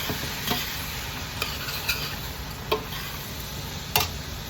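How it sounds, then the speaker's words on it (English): Beans being stirred in a soup pot for Italian white bean soup, heard as several soft, scattered scraping clinks of a spoon against the pot over a faint steady hiss, with no voices. "Now I'm going to add my beans to the pot. Give them a stir."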